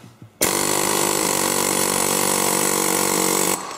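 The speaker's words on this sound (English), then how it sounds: "Put the air hammer on there. Give it some air." A pneumatic air hammer working on a rusty part kicks on abruptly and runs in a loud, continuous rattling buzz for about three seconds before cutting off.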